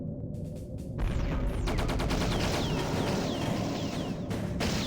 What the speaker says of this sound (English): I got hit by a missile there.